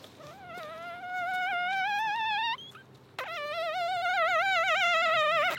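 A person imitates a mosquito buzzing close into a microphone, a high, steady whine that wavers in pitch, breaking off briefly midway before resuming louder and more warbling.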